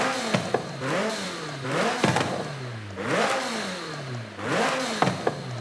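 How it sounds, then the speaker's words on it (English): A McLaren 720S Spider with twin turbos and stock exhaust revs in Forza Horizon 5, rising and falling in pitch about four times in a row, loud and close, with exhaust crackle between revs. "So this is what it sounds like with just the regular stock exhaust."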